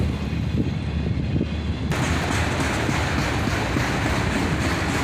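A long intermodal freight train hauling auto racks rolls by close and loud, its wheels and cars giving a dense, continuous rumble and clatter.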